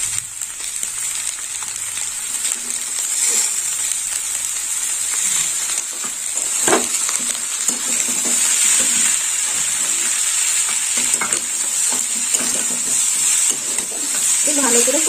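Banana flower curry with soaked chickpeas sautéing in a pan, giving a steady broadband sizzle with scraping stir strokes throughout and a brief voice near the end.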